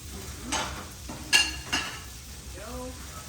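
Meat seasoned with garlic powder frying in butter in a pan on a wood cook stove, a soft steady sizzle broken by a few scraping stirs and light utensil clinks, fairly quiet with no talk.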